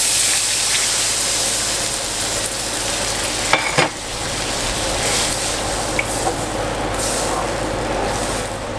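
Orange juice pours into a pan of onions and garlic frying for orange chicken, and a steady, loud sizzle fills the scene with a few faint clinks over the hiss.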